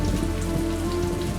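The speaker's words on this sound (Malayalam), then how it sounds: "മഴ തിമിർത്ത് പെയ്യുകയാണ്, ആരോടും വാശി തീർക്കുന്നത് പോലെ" Heavy rain pouring down, a loud unbroken wash of drops hitting surfaces close by, steady throughout with no voices.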